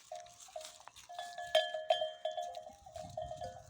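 Bells worn by a flock of sheep on a village mountainside clank and jingle in loose, irregular strokes, faint and somewhat distant, with a few sharper rings standing out.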